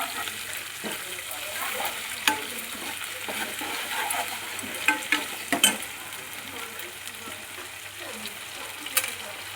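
Ginger garlic paste fries and sizzles loudly in a pan while a spoon stirs it, making repeated scrapes and a few sharper knocks against the metal.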